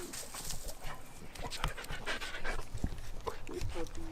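A husky-type dog pants steadily and rapidly close by at a campsite, with people talking nervously over the breathing.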